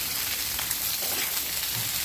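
Stalks, potato and eggplant sizzle steadily in hot oil with browned onion, a dense continuous frying hiss with no pauses, close and fairly loud.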